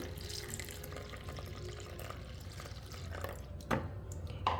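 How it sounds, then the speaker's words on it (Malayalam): Coconut milk from half a coconut poured into a bowl while making bebinca, a steady soft liquid trickle with a couple of brief splashy clinks near the end, fairly quiet and with no talking. "അരമുറി തേങ്ങയുടെ പാലാണ് കേട്ടോ അത് ഒഴിച്ചു കൊടുക്കുകയാണ്"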